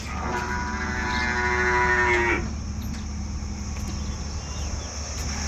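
A dairy water buffalo at a livestock market gives one long, loud, close lowing call that lasts about two seconds and then stops. A steady murmur of background noise carries on afterwards.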